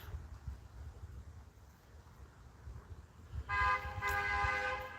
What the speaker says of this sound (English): my neighbors are going to start honking their horn